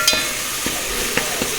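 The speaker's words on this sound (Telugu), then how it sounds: "ఇప్పుడు అల్లం పేస్ట్ వేస్తున్నావు" Ginger paste frying in hot tempering oil for fish curry, a steady sizzle with a few light scrapes of a stirring spoon against the pan.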